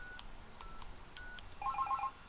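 A field phone on a private automatic branch exchange rings faintly, with a few short electronic ring bursts over a steady tone and a brief denser warble of ringing near the end, no talking.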